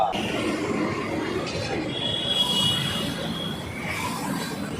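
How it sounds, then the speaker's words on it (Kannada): Bengaluru metro train passing with a steady rumble of wheels on rail and faint high squeals, continuous and fairly close, with no talk over it. "ಬೆಂಗಳೂರು ಮೆಟ್ರೋನಾ?"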